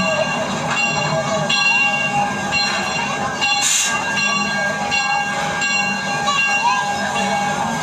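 The Six Flags Over Texas Railroad train rumbles into Boomtown station with clacking wheels and metallic squeals, a bell dinging briefly, the noise loud and continuous as it rolls in.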